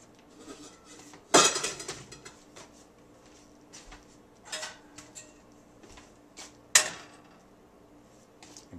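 A pan and its lid are handled on a stove burner while cooking oatmeal, with two sharp metallic clanks standing out among softer knocks and rattles.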